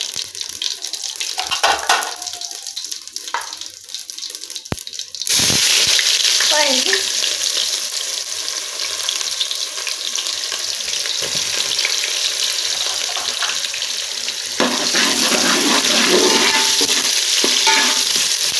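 Garam masala and onions frying in a pot as rice is prepared, a steady loud sizzle with stirring scrapes that grows louder midway and keeps going, with a brief splash of water near the end.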